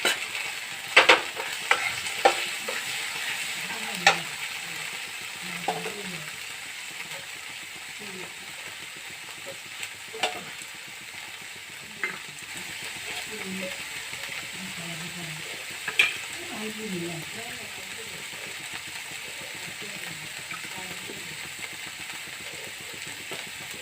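Onion paste frying in a pan with ground cumin and coriander makes a low constant sizzle. Repeated scraping and tapping of a spatula come through close by, and no one speaks.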